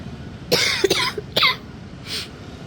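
Three sharp, close coughs in quick succession, followed after a pause by a softer, breathy cough.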